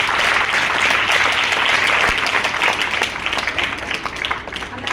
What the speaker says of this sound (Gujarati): સાહેબ માટે ફરી એક વખત તાળીઓ બજાવો